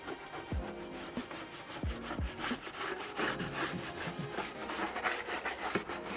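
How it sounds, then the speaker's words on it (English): A brush scrubs grime around the engine bay of a Dodge Charger with a 3.6L engine, a steady rhythmic scraping of bristles that is quiet and close, with no talking. "I'm just gonna basically go around in all the different areas and brush"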